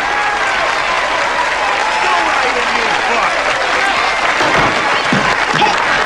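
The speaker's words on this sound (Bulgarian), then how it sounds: "Заслужава силни аплодисменти!" A crowd applauds a retired congressman in a loud, dense, continuous wash of clapping that stays steady throughout, with voices mixed into the noise.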